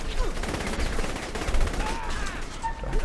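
Saints Row 3 gunfire crackles in quick repeated shots amid game sounds, loud and close over a short stretch.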